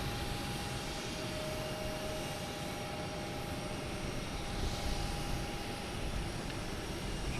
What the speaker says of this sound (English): Next to arrive is a Delta coming from Las Vegas. A321neo.